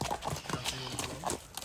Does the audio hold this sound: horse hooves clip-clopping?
yes